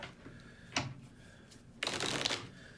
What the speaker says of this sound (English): now shuffle them?